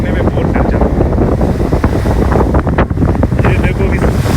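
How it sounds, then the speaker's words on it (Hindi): Strong wind buffets the microphone aboard a boat crossing the sea from Pattaya to Koh Larn, Thailand, a steady loud roar mixed with waves and engine rumble, with no clear speech. "हवा जो है ना बहुत स्पीड से चल रहा है"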